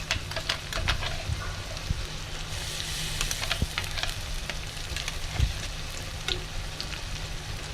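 Ginger, garlic and onion paste fries in hot oil for keema paratha, a steady close sizzle and crackle dotted with small clinks and scrapes from stirring, with no voices.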